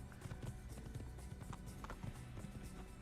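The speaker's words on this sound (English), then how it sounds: "It's like when you hear the hoof on rock rather than on kind of soft ground." Horse hooves clip-clop on rock in the Assassin's Creed video game, a quick irregular run of sharp close knocks over a steady game background.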